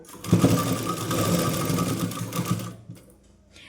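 Sewing machine running steadily while stitching a petticoat hem, a continuous close whir for about three seconds before stopping.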